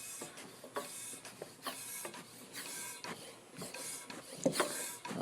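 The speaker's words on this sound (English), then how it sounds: "you pump it up. See the pressure rising? You can see it pushing brake fluid through the line." Hand pump being worked to pressurize a brake fluid line on a 2007 Pontiac Grand Prix, giving faint, repeated rhythmic squeaks and mechanical rasping strokes close by, with no voices.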